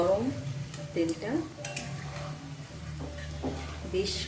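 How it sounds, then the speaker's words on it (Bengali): Onion pakoras (piyaji) frying in very hot oil in a home kitchen, a steady sizzle with spoon scrapes and clinks against the pan, under a faint voice. "ভাজছি, ভালো করে ভেজে নিই।"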